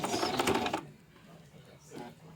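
A sewing machine set to zigzag stitch runs in a short, rapid, buzzing burst close by while fabric for a scarf is sewn, then falls quiet.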